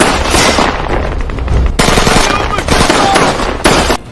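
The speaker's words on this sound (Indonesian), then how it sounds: "Baku tembak pun dimulai." Loud machine-gun fire rattles in sustained rapid bursts during a war-movie firefight with a Shia militia, with dense overlapping gunshots and brief breaks between volleys.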